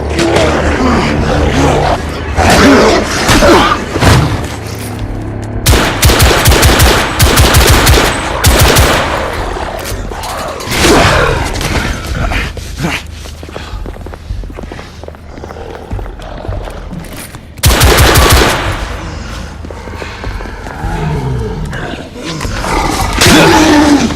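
Gunfire in the video game The Order: 1886, loud sustained bursts of automatic fire with heavy roaring blasts and rumbling that run almost continuously, fading briefly between volleys.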